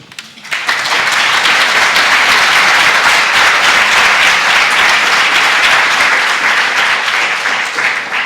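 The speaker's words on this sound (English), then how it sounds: "Please give me a round of applause for our guests." A panel audience at Eurocon 2016, a convention in Spain, breaks into loud, dense applause that rises within the first second and holds steady and full for the rest of the stretch.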